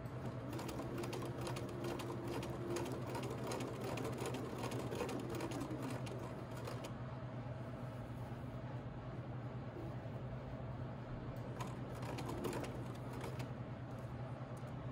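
A home sewing machine stitches a pocket onto a hoodie and then backstitches. The quiet, rapid mechanical whirring comes in short runs with brief pauses, over a low steady hum.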